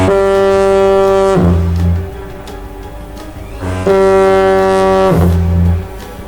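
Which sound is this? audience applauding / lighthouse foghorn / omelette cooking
lighthouse foghorn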